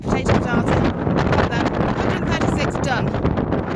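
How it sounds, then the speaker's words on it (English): Strong, steady wind buffets the microphone on an open fell in the Lake District, a loud continuous roar and rumble with brief gusts, filling the whole clip. "Lovely walk so far, very windy."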